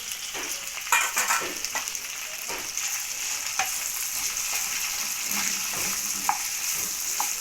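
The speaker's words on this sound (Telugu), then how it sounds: "కొంచెం హై ఫ్లేమ్లో పెట్టుకొని మిర్చిని అయితే లైట్ కలర్ చేంజ్ అయ్యేదాకా వేయించుకోవాలి" Garlic, curry leaves, onion and green chillies sizzle steadily in hot oil over a high flame while a tomato roti chutney is prepared, with occasional stirring scrapes and crackles, close up and with no talk.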